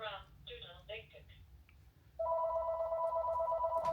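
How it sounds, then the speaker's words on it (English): A house phone rings with a steady electronic tone that starts partway through and carries on loudly, following a stretch of speech and faint background noise. "my phone would have to ring, the house phone"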